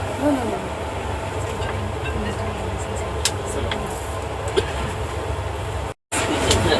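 Passenger train running on rails, heard from inside a carriage as a steady loud rumble with occasional clicks and clacks, broken by a short gap near the end.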